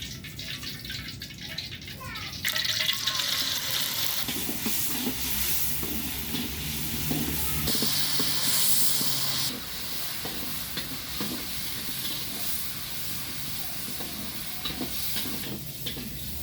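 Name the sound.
frying small anchovies in a pan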